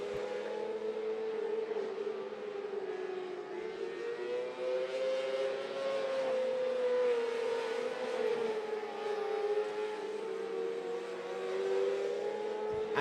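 Mini sprint race cars with 600cc engines lapping a track, a steady loud engine roar rising and falling as several cars pass, continuous throughout.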